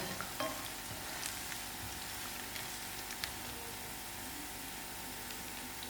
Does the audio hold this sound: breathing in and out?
no